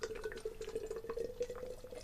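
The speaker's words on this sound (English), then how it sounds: "with widget cans, you should just dump them all in, not let it settle and then pour the rest in" Guinness Draught poured from a widget can into a glass, a continuous gurgling, splashing stream of beer with dripping liquid texture, close and moderately loud without speech.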